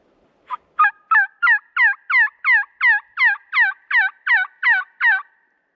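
A mouth call imitates a turkey hen's yelp while turkey hunting: a string of about thirteen loud, rhythmic, raspy yelps, evenly spaced and close, against a quiet outdoor background.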